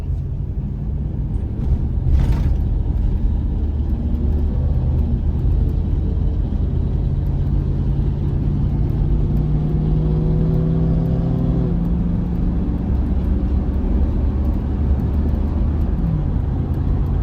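A 1995 Chevrolet Caprice with a swapped engine running while being driven: a steady, close, low engine rumble throughout, with the pitch climbing gradually under acceleration in the middle before settling back, and no voices.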